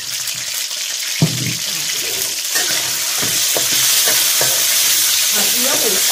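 Pork stir-fries in a pan over moderate heat, a loud continuous sizzle with scraping and stirring clicks throughout, close up and without speech.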